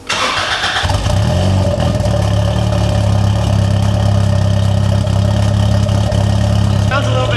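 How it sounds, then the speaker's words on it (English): A Honda EG hatch fitted with a new Spec D exhaust starts up, giving a loud mid-pitched burst that settles into a steady, rumbling idle lasting several seconds, close to the microphone. "let's see what this Spec D exhaust sounds like"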